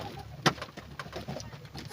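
A pet pigeon coos softly close by, giving a few low, murmuring calls with one brief sharper sound partway through, against a quiet indoor background.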